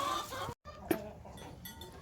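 Hens clucking inside a farm coop, a few soft near calls with brief rustling and a short sharp squawk, fairly quiet overall.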